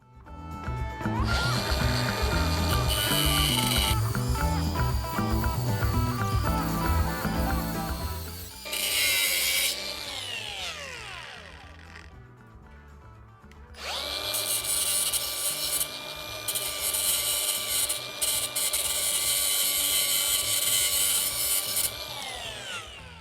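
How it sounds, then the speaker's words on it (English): A power tool cuts through the bottom of a 2021+ Ford Bronco Sport strut, loud and close, with a harsh grinding whine in long bursts and a short pause before the cutting resumes. "we have to trim a little bit of the bottom of the strut"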